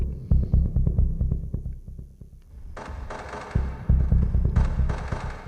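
A Stylophone CPM-DS2 synthesizer plays throbbing, pulsing sci-fi tones in a rhythmic low beat, with a brighter buzzy layer joining partway through.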